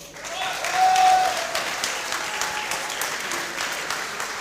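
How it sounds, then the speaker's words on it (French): Audience applause after an MMA bout at a Duel Fighting event, a dense continuous clapping swelling loud near the start and then holding steady across the whole stretch, with faint voices mixed in. "On peut t'applaudir pour ça."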